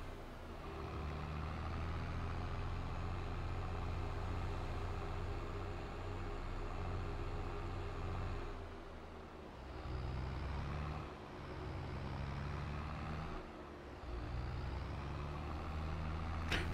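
A farm vehicle in Farming Simulator 22 drones along toward a field on the Elmcreek map, its engine a low, steady rumble with slight dips in load, moderately loud and alone.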